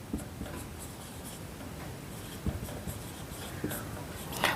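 A pen scratches across paper while working a percentage problem in a class 8 maths lesson, a continuous close, soft scribbling with small taps and strokes.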